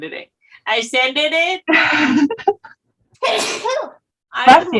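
One sneeze bursts out among close voices during a live interview with a reborn doll sculptor, and speech continues right after it.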